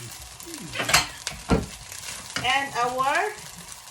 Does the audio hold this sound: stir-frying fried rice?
yes